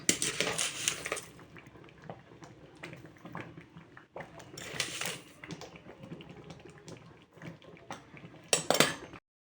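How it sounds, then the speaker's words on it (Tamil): Sugar being stirred into a milk kesari mixture in a metal pan, with repeated close scraping and clinking of a spoon against the pan at an uneven rhythm, a louder rattle near the end, and no talking. "போட்டு இந்த மாதிரி கிண்டி விட்டுக்கணும்"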